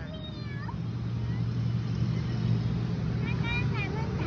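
A child imitates a cat's meow, producing short rising-and-falling mewing cries near the start and again near the end, over a steady low hum and background noise while adults coax in speech.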